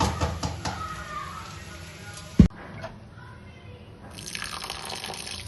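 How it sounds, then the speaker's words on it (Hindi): Water is drained off boiled bottle gourd in a kitchen, with a trickling, dripping flow, one sharp clunk of the pot partway through and a brighter running-water wash near the end. "अब इसका पानी ड्रेन कर लेते हैं।"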